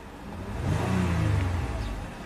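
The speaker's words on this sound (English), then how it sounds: "And when you rev it up, it's really sluggish to rev up." A car engine revs slowly and sluggishly, with the car's downstream sensors unresponsive. The revving builds over about a second and holds as a steady, fairly loud mid-range drone before easing slightly, with no talk over it.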